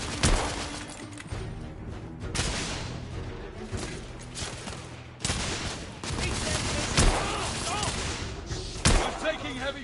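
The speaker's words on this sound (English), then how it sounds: "I'm taking heavy fire." Dense bursts of heavy gunfire from The Order, rapid overlapping shots and impacts running loud and continuous throughout, with a few sharper blasts standing out in the mix.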